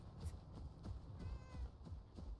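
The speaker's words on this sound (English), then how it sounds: "Hey, kitty." A cat in the Enshrouded video game gives a soft, faint meow, heard once amid quiet rhythmic background game noise.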